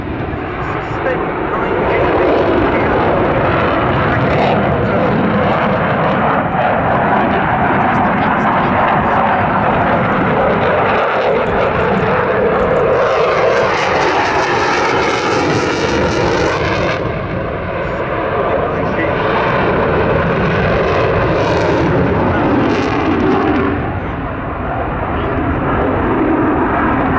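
Eurofighter Typhoon jet with EJ200 engines making a low fast pass at about 100 feet and 600 mph at an airshow, a loud continuous roar that swells and persists throughout, with a commentator's voice over it.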